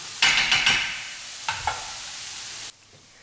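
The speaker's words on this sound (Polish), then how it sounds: "Kapusta się smaży" Cabbage sizzles and crackles in a hot pan while a utensil scrapes and stirs in a few quick strokes, then the sizzling suddenly drops away.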